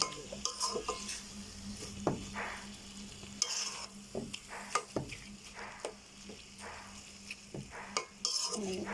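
Taro leaves cook in a pan with a low sizzle, broken by repeated scraping knocks of a spoon against the pan as they are stirred at an uneven pace, no one speaking.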